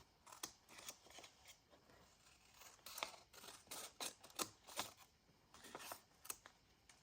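Scissors snipping through paper for a vintage-style junk journal, a quiet irregular series of crisp close cuts and rustles with no talking.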